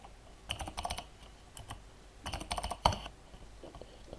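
Bursts of keyboard typing in a Command Prompt window, quick clustered key clicks separated by short pauses, with one louder tap near the end, close and without talk.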